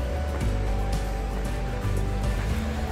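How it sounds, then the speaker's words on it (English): Alpine mountain stream of running water, a dense continuous rushing roar heard in the distance, steady and loud with no breaks. "Listen to the sound of the natural running water in the distance. That's not wind,"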